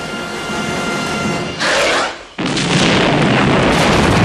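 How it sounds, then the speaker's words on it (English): A loud explosion in the 1986 film Aliens, a roaring burst that cuts out briefly then returns as a sustained, heavy rumbling blast. "the explosion knocks Newt through another shaft"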